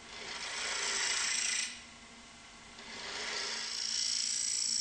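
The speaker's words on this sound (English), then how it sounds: "Switch on the lathe and hollow out the inside of the main box." A wood lathe fitted with a Robert Sorby eccentric chuck hollows out the inside of a box, giving a steady scraping hiss that eases off for about a second midway before the cutting resumes, with no voices.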